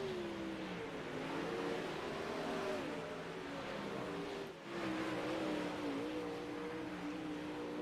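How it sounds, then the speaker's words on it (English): Dirt track race cars roar continuously around the bumpy Lernerville oval, engines whining and shifting pitch as they run the corners, with a brief dip before the loud drone resumes. "Car bouncing all around the racetrack."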